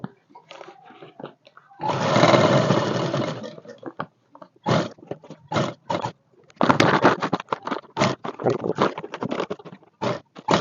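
A sewing machine stitching a fabric bag's handle strap, a close mechanical whirr in bursts of several seconds and short runs, with pauses of handling noise between them.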